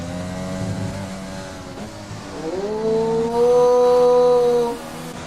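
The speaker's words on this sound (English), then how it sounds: "So it sounds like Mackie's car is on low fuel mode." An F1 2020 video game race car at the Spanish Grand Prix running in low fuel mode, its engine droning then rising in pitch as it accelerates past, loud and close before easing off, with no talk.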